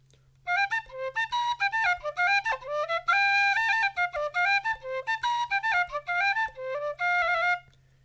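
A lively Irish tune played on a penny whistle, dry with no reverb, bright and breathy, with quick ornamented notes over a faint steady hum.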